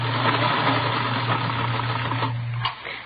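In a radio drama, a sewing machine runs with a steady mechanical hum and rapid faint clatter, moderately quiet and close, then stops abruptly near the end.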